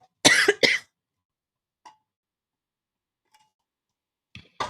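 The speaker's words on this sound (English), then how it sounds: "I can definitely tell this is an allergy cough" Two sharp, close allergy coughs in quick succession, followed by quiet with a couple of faint clicks and a softer final cough or throat sound at the end.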